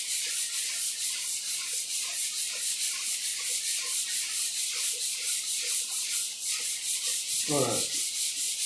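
Steady, close scrubbing of sandpaper over epoxy primer guide coat on a car body, repeating in a continuous rhythm. A brief voice cuts in near the end.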